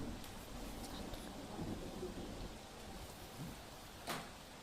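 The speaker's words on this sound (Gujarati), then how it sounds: "સુરતમાં અલગ અલગ વિસ્તારોમાં ધોધમાર વરસાદ" Heavy rain falling across Surat, a dense steady hiss with a low rumble underneath, distant and fairly quiet, with one brief louder burst near the end.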